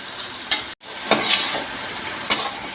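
Mutton fry stirred in a hot pan, a steady loud sizzle with scraping stir strokes at intervals and a brief dropout partway through, close up and without talk.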